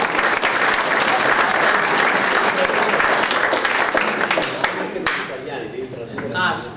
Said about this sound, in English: You can clap quick.